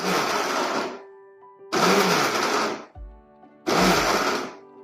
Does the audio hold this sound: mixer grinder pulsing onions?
yes